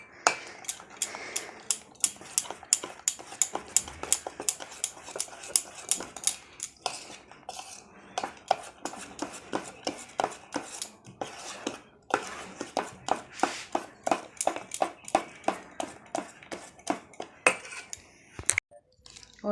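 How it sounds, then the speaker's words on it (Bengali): Cake batter with vanilla essence and a pinch of salt beaten in a bowl, a fast run of sharp metallic clinks as the utensil strikes the bowl, close and steady with a few brief pauses. "দিয়ে আবারও ভালো করে ফাটিয়ে নেবো এটাকে।"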